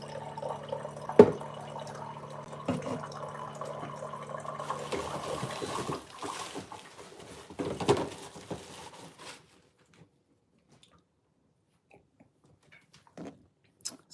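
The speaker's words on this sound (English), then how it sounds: "Filling up a lot of water." Water runs steadily into a container for about nine seconds with a few louder splashes, then cuts off, leaving near silence and a couple of faint drips.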